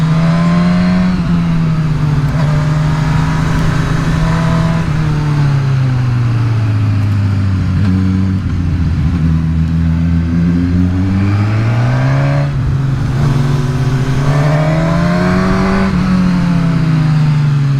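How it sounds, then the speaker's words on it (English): A Suzuki Katana motorcycle engine revs steadily and loudly, its pitch dipping in the middle and then climbing again, heard close up with no talking over it. "What do you guys think of the sound of this engine?"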